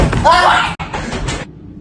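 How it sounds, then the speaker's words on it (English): A sudden loud bang on a door, heard amid people talking in Spanish while the lights flicker on their own, marked by a sharp thud and a brief drop into near silence. "someone or something bangs on the door"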